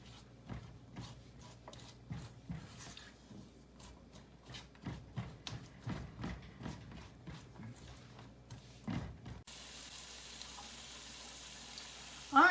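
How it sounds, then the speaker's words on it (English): Food sizzles and fries in a pan before deer meat is added, a steady crackling sizzle with repeated sharp pops and stirring clicks, close and fairly loud, with no speech. "we got a pretty good sizzle going there."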